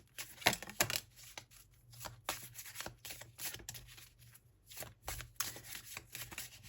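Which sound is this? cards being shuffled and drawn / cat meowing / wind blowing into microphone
cards being shuffled and drawn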